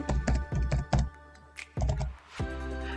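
Keys clatter on a computer keyboard while entering respondent data into a psychologist's information system, in short close bursts of tapping separated by brief pauses.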